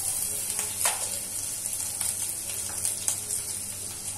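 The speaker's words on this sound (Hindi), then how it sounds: "तेल काफी अच्छे से गर्म हो चुका है, इसमें डाल देंगे हींग और अजवाइन।" Asafoetida, ajwain and grated ginger hitting hot oil in a pan, a loud continuous sizzle with bright crackles and a few sharper spits, close by and with no voices.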